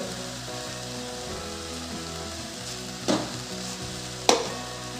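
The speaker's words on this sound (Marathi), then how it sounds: "आता ते सर्व आपण छान परतवून घेऊ" Spices including asafoetida, coriander powder and chili sizzle steadily in a pan for a raw mango sabzi, with two sharp scraping stirs cutting through the even frying hiss.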